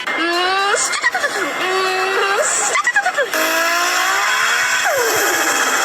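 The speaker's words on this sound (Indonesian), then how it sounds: "Ini adalah Nissan GT-R R33. Dengerin saja, suara knalpotnya yang kayak gini coy." A Nissan GT-R R33's exhaust rises and falls in revving sweeps, with several throttle blips followed by a long sustained rev, loud and close.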